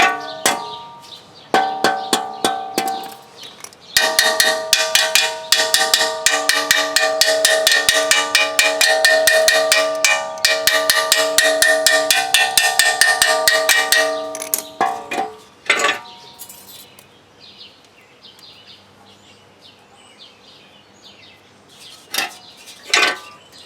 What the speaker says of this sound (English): so I'll keep scraping.